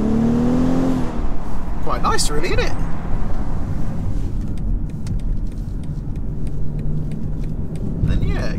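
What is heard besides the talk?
2019 BMW X5 40i SUV engine heard from outside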